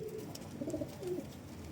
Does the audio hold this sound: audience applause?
no